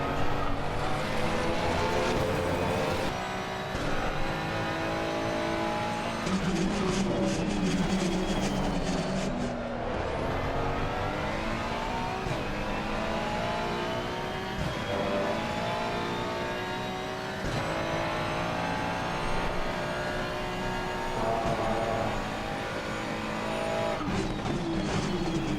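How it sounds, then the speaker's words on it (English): Ferrari 296 race car accelerating out of a slow corner at Kyalami in Assetto Corsa Competizione, its engine revving up loudly through the gears with steady rising pitch sweeps, continuous and close for the whole stretch. "Braking at the 50-yard board, down to 2nd, down to 1st, and then accelerating out"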